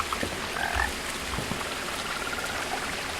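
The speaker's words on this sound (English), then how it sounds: "I hear a frog." A frog croaks a few times in the game What Remains of Edith Finch, low and close, against a steady rain-like ambient hiss.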